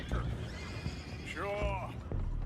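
Horses whinny in the Red Dead Redemption 2 video game, one clear neigh standing out over hoof clatter and low rumbling game ambience.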